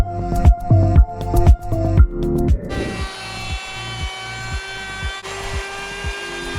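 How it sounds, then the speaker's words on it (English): A router fitted with a 1/4 inch round-over bit whines loudly and close while shaping the edges of a wooden cutting board, with repeated bursts of cutting as the bit bites the wood, then a steady high spinning tone. "let's use a 1/4 inch round over to router all the edges."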